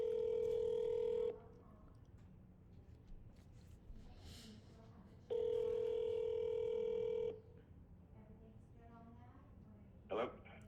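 A telephone dialed by hand for a sales call, with two long steady tones separated by quiet stretches and a brief blip at the end, clear and close over faint room noise.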